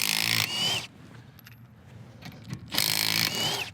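A Milwaukee M18 FUEL compact impact wrench taking off lug nuts from a Subaru, two loud bursts of rapid hammering whine separated by a quieter pause with faint handling noise, close up and with nobody speaking.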